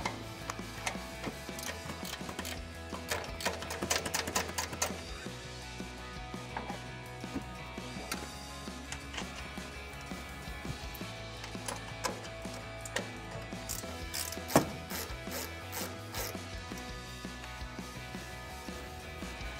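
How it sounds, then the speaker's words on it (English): A 14mm ratcheting wrench works the nuts on top of a strut tower, giving rapid repeated clicking ticks in bursts over a steady low background hum, close and fairly quiet. "So we'll take a 14mm ratcheting wrench"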